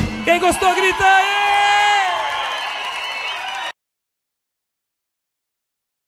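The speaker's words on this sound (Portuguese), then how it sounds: "Quem gostou, grita aí!" A live Brazilian sertanejo concert crowd roars, whoops and shouts together in a loud, sustained burst for a few seconds before cutting abruptly to silence.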